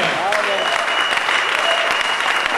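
A church congregation claps and cheers in praise of the Lord during an evangelistic gathering in Rotterdam, a dense, loud, sustained burst of applause with voices mixed in throughout.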